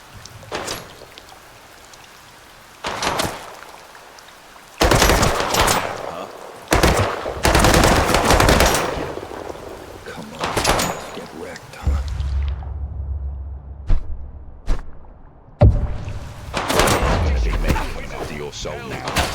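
Bursts of gunfire in the video game Sancticide, loud rapid shots in irregular volleys with brief pauses, mixed with game effects and a low rumble, while a voice talks over parts of it.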